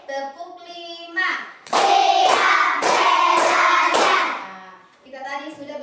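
Rhythmic hand clapping of a children's clapping song in a classroom, several sharp claps in a steady beat under singing voices, with sung counting before and after.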